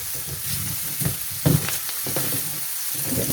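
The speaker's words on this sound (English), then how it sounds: "we're getting some of the moisture out of the onions, some of that excess water out, as well as giving them color and flavor" Sliced onions sizzle and crackle steadily in a hot pan as they are stirred and browned for kimchi stew, with a few louder spatters and scraping stirs up close.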